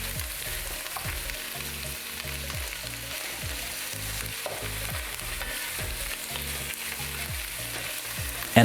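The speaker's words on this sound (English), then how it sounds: "After 5 minutes sauteing, we will add the smoked pork loin." Smoked pork loin sautéing in a pot for feijoada, a steady close sizzle with repeated scraping strokes of a spoon stirring through the pan.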